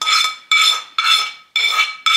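Fried onion and carrot are spooned into a dish in four or five sharp metallic scrapes and clinks of a utensil against the dish, close and loud, evenly spaced.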